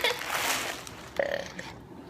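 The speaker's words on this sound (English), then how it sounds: "Such wimpy burps." Burps let out after inhaling helium, a broadband rasp at the start followed by a shorter, higher squeaky burp midway, close and fairly loud with brief voices around them.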